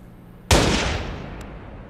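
Sniper rifle shot in Watch Dogs, a single sharp, loud crack that bursts out suddenly and then rolls off into a long, fading echo.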